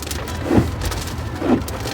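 Steady rain coming down outdoors during a stop on a ride, a constant broadband hiss with two brief louder swells, no voices.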